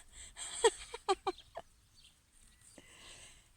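Several close, sharp clucks from hens in a garden in a quick uneven burst, then a few softer clucks and quiet rustling.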